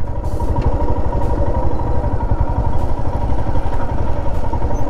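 A motorcycle idling close by on a Ladakh ride before being parked, a steady low, throbbing engine rumble with faint clatter and no talk.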